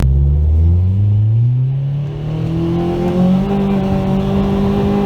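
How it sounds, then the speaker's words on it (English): A Nissan Juke on a 14 PSI boost pull through a MAC valve boost solenoid, the engine note climbing steadily in pitch as it accelerates hard, loud and close, with a droning rumble. "Here's a video of me doing a 14 PSI pull on this Mac valve."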